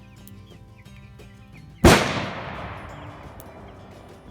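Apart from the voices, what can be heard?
gunshots from a friend shooting on a nearby range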